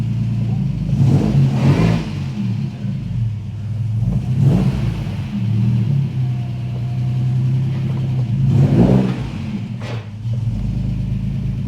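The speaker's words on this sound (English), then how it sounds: "Wheel spin." A classic Ford Capri's engine revs hard in repeated surges while the wheels spin, loud and close, with the engine note rising and falling several times.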